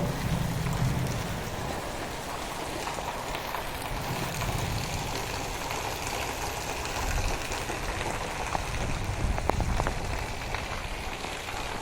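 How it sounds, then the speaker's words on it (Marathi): Rain falls steadily at a moderate distance, a soft even patter and hiss that carries on unbroken, with no one speaking. "पाऊस चालू आहे"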